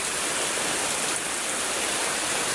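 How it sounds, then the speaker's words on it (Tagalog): Floodwater rushing in a steady, dense roar that fills the whole clip without letup, loud and close, with no voices over it. "Ayan na po yung baha, oh."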